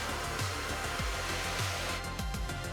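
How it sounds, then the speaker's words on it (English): A handheld hair dryer blows steadily and close during a controlled blow-dry of a client's hair at a salon demonstration, its broadband rush continuous with small shifts in pitch as the airflow moves across the hair. "This will help for a nice controlled blow dry."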